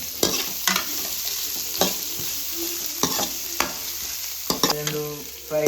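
Mangalore-style chicken sukka fries and is stirred in a pan: a constant bright sizzle broken by periodic scraping strokes of the spatula, with a few metallic clanks near the end.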